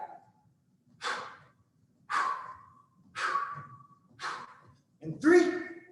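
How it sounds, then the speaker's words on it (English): During a cardio kickboxing workout, a person breathes heavily, giving five forceful, evenly spaced exhales about a second apart, each a loud, close, breathy rush, with the last one voiced and strained. "Hopefully you've noticed my breathing."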